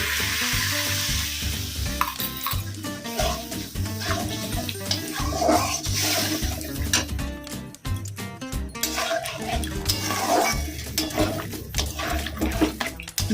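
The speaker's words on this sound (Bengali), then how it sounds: "একটু নাড়াচাড়া করে সামান্য একটু জল দেব। জলটা দিয়ে দিচ্ছি।" Water splashes into a pan of sizzling chilli chicken gravy, a steady frying hiss with scraping and stirring throughout and no talking.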